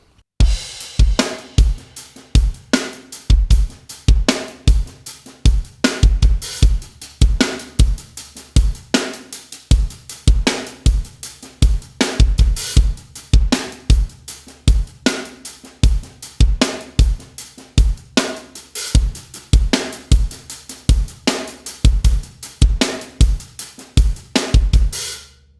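A full drum kit plays a steady rock-pop groove in a straightforward style, with punchy kick and snare hits over constant bright cymbal wash, loud and close, no talking.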